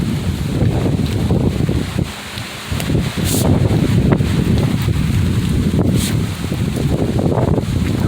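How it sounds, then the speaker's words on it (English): Strong, gusting wind from a sudden summer microburst storm in Utah, roaring steadily and buffeting the microphone, with brief lulls and surges and no talking. "Crazy wind."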